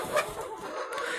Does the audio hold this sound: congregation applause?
no